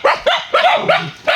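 A dog barks five times in quick succession, sharp, close and fairly loud, with short gaps between the barks and no talking.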